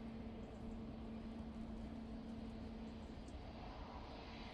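An airliner departing Manchester Airport for Amsterdam Schiphol gives a faint, distant, steady engine rumble with a low hum, heard through gusty wind.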